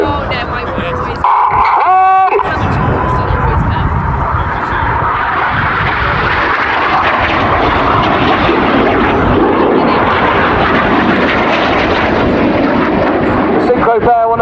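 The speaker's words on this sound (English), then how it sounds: "The synchro pair will now cross again in front of us as they perform what we call the slingshot." Red Arrows jets at an air display roar past in a continuous loud, sustained rushing pass lasting many seconds, with the engine noise swelling and filling the sky.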